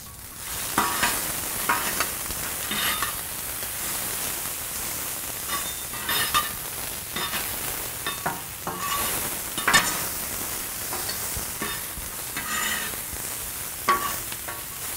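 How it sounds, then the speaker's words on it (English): Onions fry in vegetable oil for a Korean street-style burger, giving a steady close crackling sizzle with frequent scraping stirs and taps of a utensil, no voices. "Fry up some onions."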